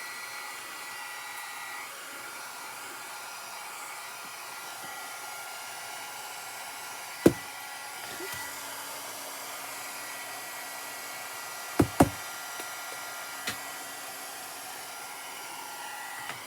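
A hair dryer blows steadily to dry paint on a canvas, a continuous close whirring rush with a few sharp knocks and clicks partway through.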